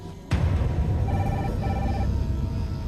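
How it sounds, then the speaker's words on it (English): A telephone rings in two short electronic bursts over a low room rumble, fairly faint beneath a dull background hum after a sudden onset. "Then the phone rang."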